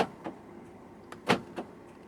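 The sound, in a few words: Proton X90 power folding side mirrors folding in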